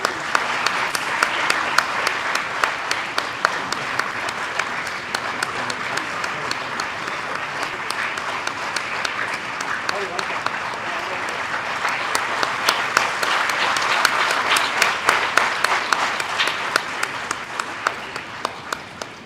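An audience at a university higher-education fair inauguration ceremony applauds continuously, a dense wash of clapping that swells slightly in the middle before tapering off.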